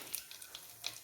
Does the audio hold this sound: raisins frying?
yes